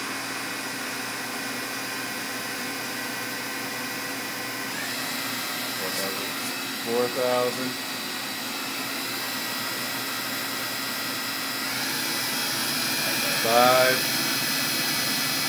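A Fadal VMC40HT CNC machining center's spindle runs as a steady, continuous whine and hum that rises in pitch partway through, with brief voice remarks over it.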